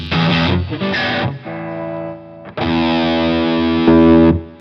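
An electric guitar runs through an LPD Pedals distortion pedal on its clip setting, giving loud, thick, sustained distorted chords that ring out, fade slightly, then strike again with a dense buzzing edge.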